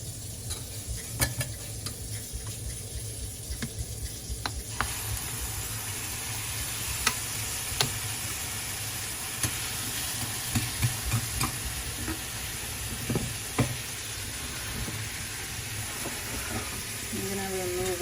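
Sugar melts and sizzles in a pan for chili gummies, a steady close hiss and frying crackle with occasional stirring scrapes throughout.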